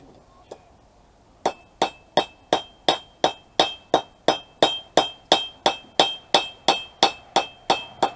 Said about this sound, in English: I think I might want to hammer that out a little bit longer, a little deeper.